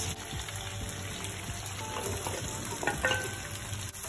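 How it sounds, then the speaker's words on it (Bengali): Chopped onions added to softened tomatoes sizzle over a medium flame in a pan, with a steady close frying hiss and occasional scraping of stirring. "পেঁয়াজ দিয়ে ঠিক মিডিয়াম ফ্লেমে নাড়াচাড়া করে নিতে হবে।"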